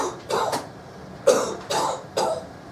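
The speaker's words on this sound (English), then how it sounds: "they're just disrupting his speech by coughing in cadence" A series of roughly evenly spaced coughs, about five bursts over a few seconds, from several people at once in a room.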